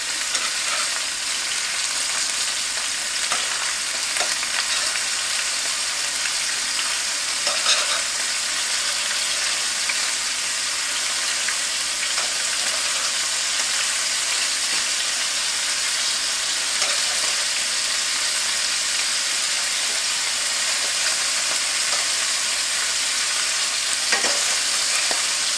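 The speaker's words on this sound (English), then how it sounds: "We'll let them sear for just a little bit longer" Beef medallion steaks sear in a hot pan with a steady, dense sizzle and spatter that runs unbroken and close, with faint occasional ticks and scrapes beneath.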